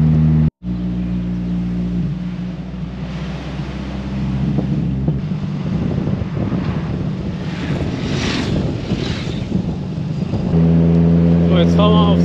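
A Morgan 4/4 75th Anniversary sports car drives a mountain road from the Hahntennjoch pass toward the Lechtal valley, its engine droning loud and close with wind rush, the revs rising and falling through gear changes.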